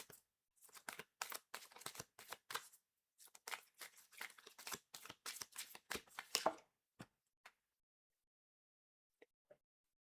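A deck of cards is shuffled close up in quick, papery riffling bursts. The shuffling rises to a dense flurry, then stops, and a few soft taps follow in near silence.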